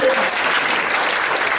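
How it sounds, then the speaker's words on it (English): An audience at a comedy show on a Carnival cruise ship claps in a brief, loud burst of applause. "Give them a round of applause."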